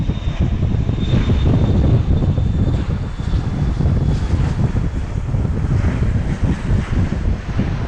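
A FlexJet Bombardier Challenger 350 business jet departs, its loud, steady engine roar filling the air with broadband rushing noise, a faint whine on top and wind buffeting the microphone throughout.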